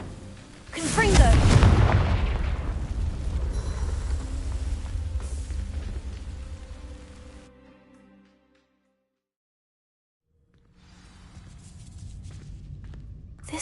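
A Confringo fire spell in Hogwarts Legacy bursts against dry vines with a loud, booming blast and a roaring, crackling burn that fades out over several seconds, then a short silence before low rumbling ambience returns.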